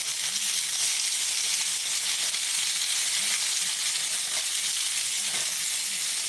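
Lamb chops searing in a cast iron pan make a steady, even sizzle and hiss that carries through the whole stretch at moderate loudness, without talk.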